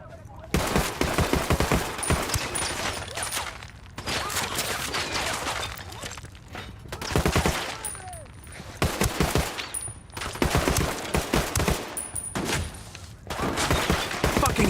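Video game gunfire in Ghost Recon Wildlands, with bursts of automatic rifle fire from a squad opening up on targets. Loud, rapid volleys come in repeated clusters separated by short pauses.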